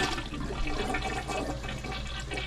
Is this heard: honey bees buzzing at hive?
no